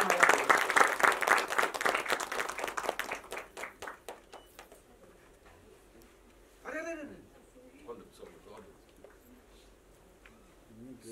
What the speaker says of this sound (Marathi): जोरदार टाळ्या तेंडुलकर सरांसाठी.